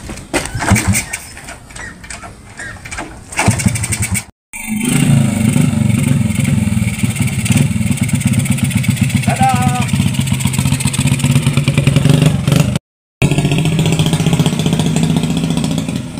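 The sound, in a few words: antique motorcycle engine running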